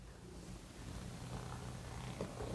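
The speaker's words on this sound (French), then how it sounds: "Ouh, un chat foufou. Un petit chat foufou." A cat purrs softly and steadily up close, a low rhythmic rumble that continues throughout in a quiet room.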